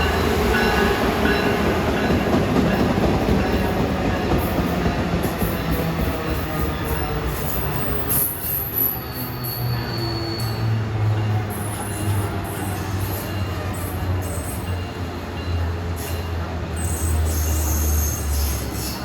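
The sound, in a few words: MARC commuter train with Charger locomotive passing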